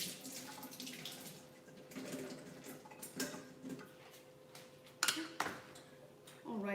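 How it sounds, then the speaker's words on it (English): A halved potato being rinsed under a running kitchen tap, with a steady close splash of water broken by a few clatters of handling, quiet, with no talking over it. "I think this needs a quick rinse."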